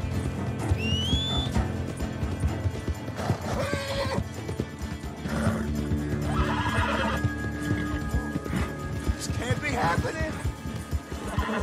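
A horse in Red Dead Redemption 2 whinnies loudly and its hooves clip-clop steadily beside other game sounds, with a busy, dense mix throughout.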